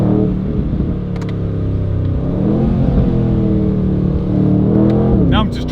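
An Aston Martin Vantage Roadster on snow tyres is revved repeatedly, and its engine note rises and falls loudly and close throughout. A person talks over the engine.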